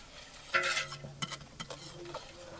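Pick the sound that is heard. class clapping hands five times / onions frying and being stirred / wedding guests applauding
onions frying and being stirred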